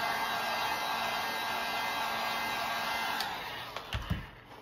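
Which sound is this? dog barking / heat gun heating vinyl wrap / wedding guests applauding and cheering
heat gun heating vinyl wrap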